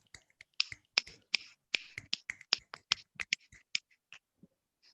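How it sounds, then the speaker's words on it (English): A rapid, irregular burst of finger snapping from an online ceremony audience, many sharp crisp clicks over a few seconds that thin out toward the end, with no talk. "Finger snaps"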